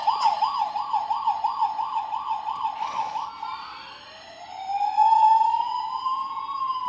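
Toy fire truck siren, first a rapid warbling yelp, then after a brief pause a long rising wail. Loud and close, heard alone without speech.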